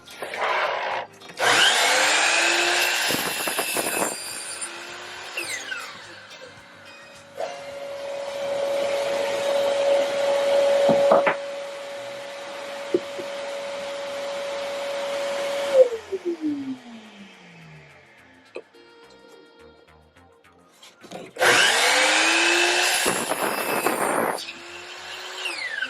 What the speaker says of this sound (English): I'm going to take the rest of my construction 2x4s and cut out 9 33-inch